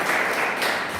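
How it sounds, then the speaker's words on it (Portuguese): A church congregation applauds during a family worship service, a steady wash of clapping for about a second with no pauses. "Então aplauda o Senhor"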